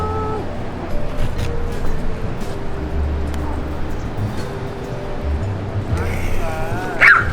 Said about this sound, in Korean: 으르렁거린다 으르렁